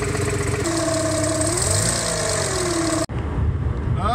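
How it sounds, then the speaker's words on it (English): An automatic Jaguar E-Type sits in park with its engine running, giving a loud, steady whine from the transmission torque converter over the idle. The whine wavers slightly in pitch, then cuts off abruptly near the end. "have a listen to the transmission torque converter."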